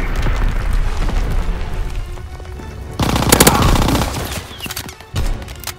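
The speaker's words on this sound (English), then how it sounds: "sending mortar rounds" Mortar rounds exploding in Call of Duty WWII, heavy booming blasts amid rattling machine-gun fire, with a loud burst of detonations in the middle and another sharp hit near the end.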